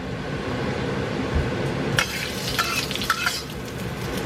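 Oil heating in a wok for a quick Mongolian beef stir-fry, giving a steady close sizzling hiss broken by a few sharp metallic clinks partway through.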